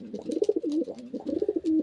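Long-kept pet birds coo close up in a continuous, wavering throaty run with small rises and dips, fairly loud and with no speech.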